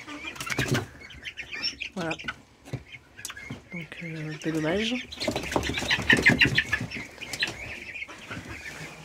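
A backyard flock of hens and roosters gives brief bursts of wing flapping, with clucks and calls around them. Someone speaks close by in the middle and at the end.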